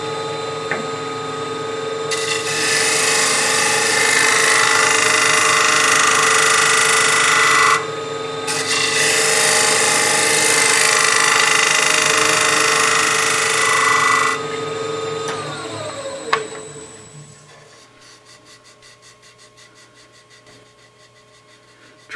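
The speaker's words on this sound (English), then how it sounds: "I can take that out with a shear scrape" A wooden bowl spinning on a lathe is shear scraped in two long, steady rasping passes separated by a brief pause, with a constant motor hum underneath. The cutting then stops and the machine runs on more quietly.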